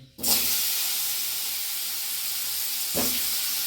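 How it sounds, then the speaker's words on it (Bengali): Pumpkin pieces coated in salt and turmeric sizzle in hot oil, giving a constant close hiss with a sharper burst at the start and another near the end. "হ্যাঁ, দেখো কুমড়োটা আমি সুন্দর ভেজে নিচ্ছি।"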